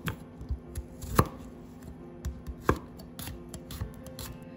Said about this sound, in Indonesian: yang dua lagi akan kita chop untuk menumis sayur